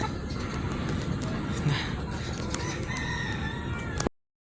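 A Shamo rooster about seven months old crows loudly and close by, with other fowl clucking and a low babble of voices in the background.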